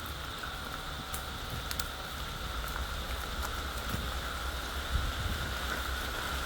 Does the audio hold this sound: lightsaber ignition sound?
no